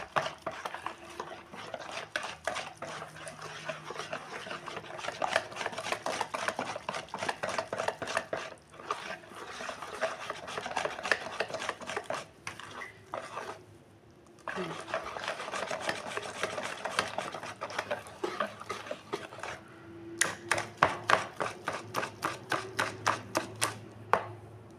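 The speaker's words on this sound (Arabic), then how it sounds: "خلطتها غير بالخلاط هذه، ما استعملت لا خلاط كهربائي لا والو" Basbousa batter with yeast mixed by hand with a whisk in a bowl, no electric mixer, giving a quiet continuous scraping and rubbing with rhythmic taps and a brief burst of rapid clinks near the end.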